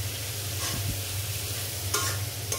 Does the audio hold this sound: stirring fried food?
yes